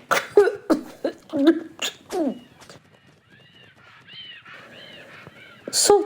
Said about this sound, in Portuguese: Soltou um pigarro, quase muda, asfixiada.